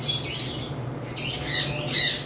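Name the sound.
albino lovebird breeding pair calling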